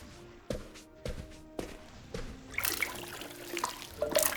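Water pours onto an indoor houseplant after a few soft knocks and handling sounds, building into a gentle trickling splash that grows a bit louder toward the end.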